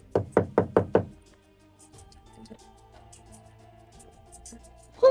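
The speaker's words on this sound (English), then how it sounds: "came sometime afterwards and knocked at the door" Five quick, close knocks rap on a wooden door in a steady burst, followed by a quiet room with faint low background hum.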